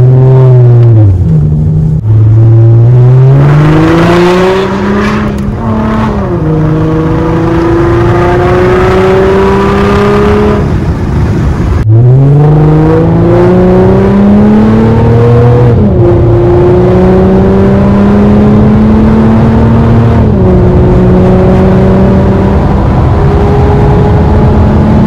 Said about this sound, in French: avec la suppression et le downpipe, ça fait du bruit